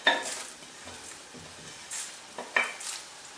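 Coriander seeds dropped into hot oil for a Palakkad fish curry, giving short sizzling bursts mixed with metal clinks of a spoon against the pan, close and moderately loud, with no talking.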